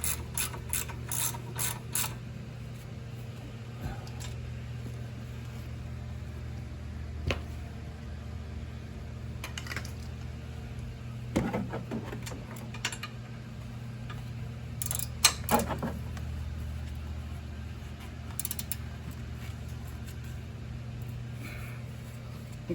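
A ratchet tightens the brake bolts on a Mustang GT, with bursts of clicking pawl strokes separated by pauses over a steady low hum, close and moderately loud with no talk.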